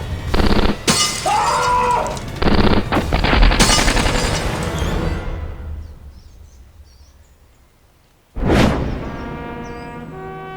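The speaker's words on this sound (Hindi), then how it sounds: "इकबाल, गोलीबारी हो रही है?" Gunfire sound effect in a Hindi TV crime drama: loud, dense bursts of rapid shots and crashing impacts fade to quiet, then a single sharp blast rings out.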